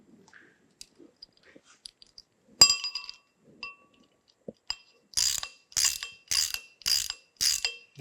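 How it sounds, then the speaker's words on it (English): A polished cast hand wheel is fitted onto a bandsaw shaft during a restoration, giving sparse metallic clinks and taps, then a run of about seven sharp ratcheting metal clicks in a steady rhythm, close and quiet. "We'll go ahead and put our nicely polished hand wheel up on here."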